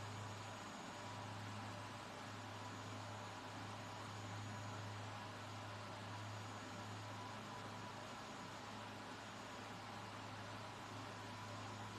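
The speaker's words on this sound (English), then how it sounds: "At the car wash, yeah." Car wash machinery runs while a black truck is washed, producing a faint, constant mechanical hum with a low steady drone and an even background hiss, unbroken by talk.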